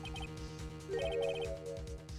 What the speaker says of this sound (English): I heard a phone ring just now, one of them newfangled ringtones.